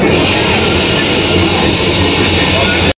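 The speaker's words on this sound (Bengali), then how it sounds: "এখন কুদঘাট মেট্রো স্টেশন থেকে মেট্রো ধরে চলো যাওয়া যাক।" A Kolkata metro train running at Kudghat station, with a loud, steady rumble and hiss of the carriages that holds close throughout.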